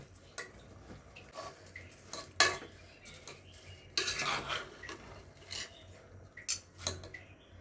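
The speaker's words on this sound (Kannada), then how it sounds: "ಇವಾಗ ಮಸಾಲೆ ಮತ್ತು ಅಕ್ಕಿನ ಕ್ಲೀನಾಗಿ ಮಿಕ್ಸ್ ಮಾಡ್ಕೊತೀನಿ" Soaked rice and lentils are stirred with masala in a pot for bisi bele bath, giving irregular spoon scrapes and clinks against the metal with soft, wet mixing noises in between. The sound is close and fairly quiet.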